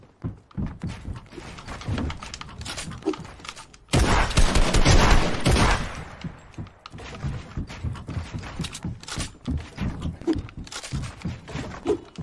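Rapid gunfire in a one-on-one video game match: dense bursts of sharp shots, close and loud, with a heavier sustained volley in the middle, no speech.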